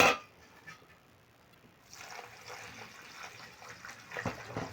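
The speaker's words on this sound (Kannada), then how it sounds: "ಇದಕ್ಕೆ ತಣ್ಣದ ಉಪ್ಪು ನೀರು ಹಾಕ್ಕೊಳ್ಳುವ" Cold salt water is poured into a dry vessel for tender-mango pickle, a soft, quiet trickle and splash that picks up after a near-silent start, with faint gurgling toward the end.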